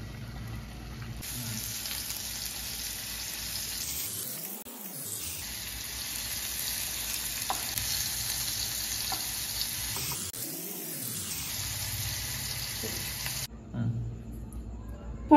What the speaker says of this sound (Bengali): পনিরগুলোকে হালকা ফ্রাই করে নেব।